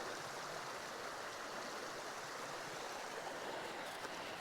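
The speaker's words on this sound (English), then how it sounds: "You could hear that cascade" A cascade on the Chattooga River gives off a steady, dense rush of falling water, continuous and even throughout, with no other sounds.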